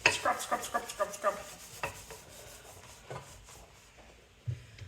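Brisk scrubbing strokes rub across a kitchen surface during a deep clean, a quick burst of rhythmic rasping up front that then thins into scattered softer scrapes and a final knock, all close by.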